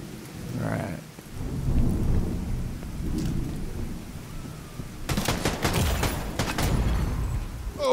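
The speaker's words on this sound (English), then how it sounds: "Raining, just raining." Steady heavy rain hisses throughout a video game scene, with deep rolling thunder rumbling underneath and a sharper crackling burst of thunder toward the end.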